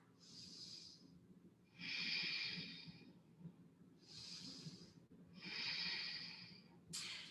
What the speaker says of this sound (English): Take a big breath.